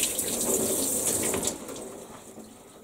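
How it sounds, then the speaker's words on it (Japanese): Potatoes are washed under a running kitchen tap, a steady close gush of water splashing over them that thins toward the end, with no talking. "ちょっとじゃがいもをね、ちょっときれいに洗いまして"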